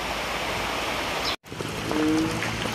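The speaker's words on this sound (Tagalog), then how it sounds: "as of now ay umuulan pa rin at napakadilim pa ng paligid" Steady rain falls while water flows nearby in a small drainage channel outdoors, a dense continuous wash of noise broken by a brief cut, then resuming with faint tones in the background and no talking.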